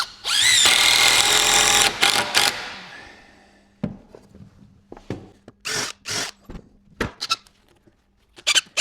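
A power drill drives a screw into wood for a guttering planter build, whirring loudly for about two seconds before a few short bursts, then quiet clicks and handling knocks follow.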